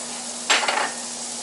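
Onions dropped into a hot pan give a brief bright sizzle, a short crackling burst that quickly settles, close and alone over a faint steady hum.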